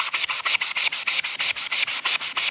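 Rust being sanded off a planer base, a rapid regular back-and-forth scraping rhythm of about five strokes per second, close and steady with no talk.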